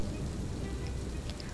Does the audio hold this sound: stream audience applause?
no